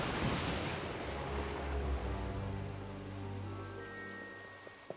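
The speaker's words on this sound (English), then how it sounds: "The rain is only getting worse" Heavy cartoon rainstorm, a dense loud rush of rain with a booming thunder-like rumble at the start that fades into a low tonal hum, ending in a sharp tap.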